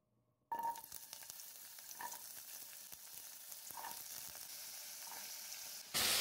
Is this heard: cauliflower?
yes